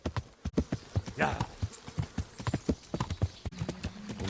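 Horse hooves clip-clop in steady rhythm in the medieval video game Kingdom Come: Deliverance, close and fairly loud, with someone talking over the hoofbeats.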